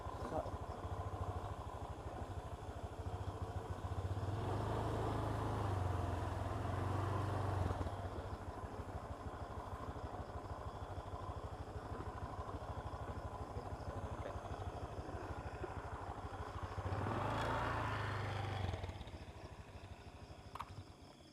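A motorcycle engine rumbles throughout a ride to a lakeside valley, with a low steady drone that swells louder around the middle and again near the end, then eases off as it slows, while people talk over it.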